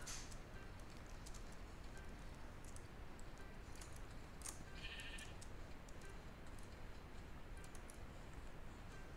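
Faint, brief sheep bleats from a creative-mode sandbox world in a video game sit beneath a constant loud hiss, with a few scattered clicks and ticks around them.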